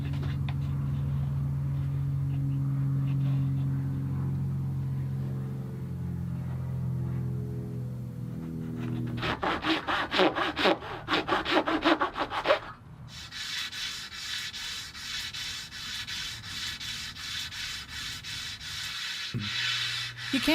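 Mahogany strips being cut and sanded by hand, first a low hum with rubbing, then brisk rhythmic back-and-forth scraping strokes close by, pausing briefly and resuming as steadier repeated sanding passes.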